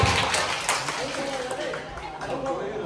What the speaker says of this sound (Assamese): সকলোৱে হাত তালি জোৰত